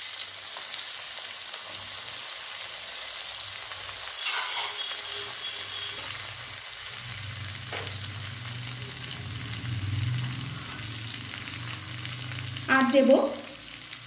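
Chopped onions fry with cumin in a pan, a soft steady sizzle with occasional scraping stirs and a louder clatter of utensils toward the end, plus a few brief spoken words.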